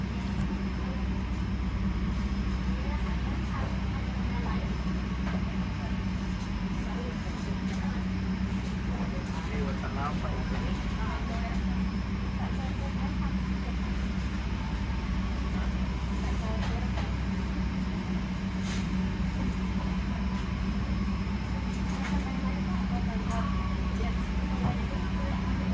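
A Jaka Tingkir passenger train departs at night on the Solo to Jogja run, giving a steady, unbroken rolling rumble and hum from onboard that lasts the whole stretch.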